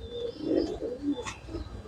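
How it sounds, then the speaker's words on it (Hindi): A small female Malwai pigeon from Punjab gives a soft, low cooing phrase, close and quiet, rising and falling over about two seconds with a faint chirp in the background. "छतरी वाली कबूतरी है जी मेरी, बहुत बढ़िया है, छोटे से साइज की है"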